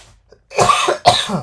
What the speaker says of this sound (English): I'm going to be coughing probably all night